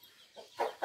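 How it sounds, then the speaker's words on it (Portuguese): Hens in a farm henhouse give a few short, soft clucks close by in a quiet setting, a brief handful of calls. "Aqui é o galinheiro aqui."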